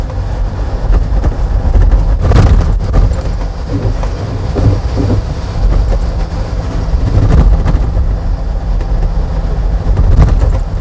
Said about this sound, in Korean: 시끄럽죠? 엔진 소리.